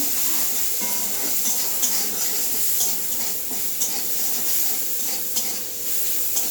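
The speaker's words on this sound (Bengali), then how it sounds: "এর মধ্যে পেঁয়াজ কুচি দিয়ে দিচ্ছি, ভালো করে নেড়ে নিচ্ছি।" Chopped onion with ginger-garlic paste, green chilli, salt and spices sizzles loudly in hot oil as a spoon stirs it, making a continuous frying hiss broken by regular scraping strokes. No one speaks.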